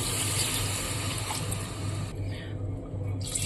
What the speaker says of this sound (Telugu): ఇప్పుడు వాటర్ వేసుకుందామండి